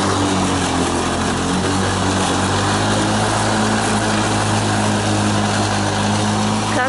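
A Lawn-Boy commercial lawn mower runs steadily through long grass, its engine a loud, even drone with strong low hum throughout, close by and uninterrupted.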